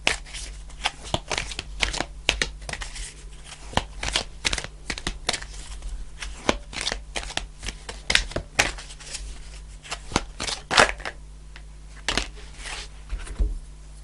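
A deck of tarot cards being shuffled close by, with a steady run of quick, crisp riffling snaps and flutters that come in uneven bursts for the whole stretch and no talk over them.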